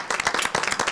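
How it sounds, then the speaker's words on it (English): A brief burst of clapping from a room of attendees at a municipal budget retreat meeting: quick, overlapping claps that are loud and close. "Big round of applause"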